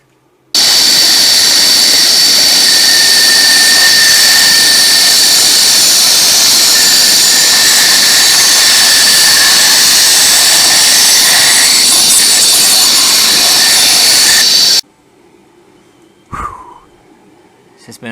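A bandsaw in a home workshop running with a loud, steady roar and a faint high whine for about fourteen seconds, then cutting off abruptly into near silence with a few small knocks.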